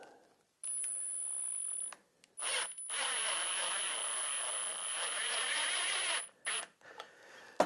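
A hanger bolt being driven into wood, likely with a power driver, making a steady whirring, clicking mechanical sound in two long bursts with short pauses and clicks between them.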